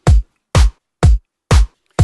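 Isolated drum hits from a sample-library drum loop in Loopcloud 4, with the hi-hat edited away from the kick: five punchy, evenly spaced beats, loud and dry with nothing else playing.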